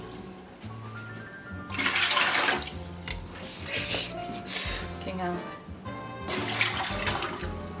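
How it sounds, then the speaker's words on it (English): Hot water runs from a tap into a jug, a steady rushing splash that swells and changes pitch as the vessel fills, with a person talking and swearing over it. "I'm using hot water out of the tap just to speed things up a touch."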